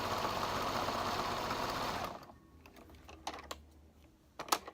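A home sewing machine runs in a steady dense whir for about two seconds, then stops, leaving faint clicks and small handling knocks.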